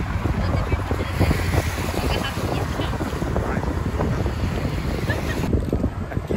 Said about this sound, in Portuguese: só um mar quebrando lá as ondas na praia.